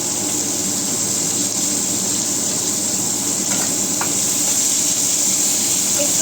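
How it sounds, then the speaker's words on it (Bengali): Tomatoes and two chillies frying in a pan for paneer capsicum masala, a steady close sizzle and hiss with a couple of faint stirring clinks, no talking. "একটু ফ্রাই করে নিই।"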